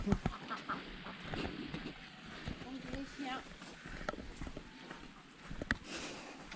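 Ducks quack in a noisy cluster on a trek near Sapa, Vietnam, several calls overlapping near and far, mixed with background chatter and rustling.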